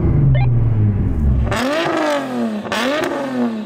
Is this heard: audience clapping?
no